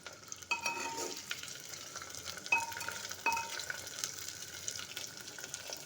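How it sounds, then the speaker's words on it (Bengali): Chopped onions fry in a clay pot on a gas stove, a soft steady sizzle broken by a few sharp scrapes and knocks of a stirring spoon against the pot. "পেঁয়াজটাকে ভালো করে ভেজে নিতে হবে।"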